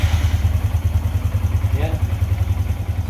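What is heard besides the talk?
motorcycle engine starting and running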